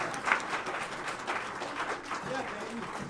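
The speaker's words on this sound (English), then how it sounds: "Hey, Peyton got all that applause." Audience at Birdland Theater jazz club applauds a clarinet and alto saxophone player, a sustained patter of clapping heard throughout with people talking over it.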